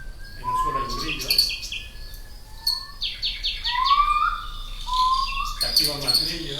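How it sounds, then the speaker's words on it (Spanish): A night field recording of nightingales sings rich whistles, trills and rising phrases up close, while a distant owl and a cricket on the ground add a faint steady background. "Si al ruiseñor, a la bronca, le añadimos un bochuelo a lo lejos, en el suelo hay un grillo,"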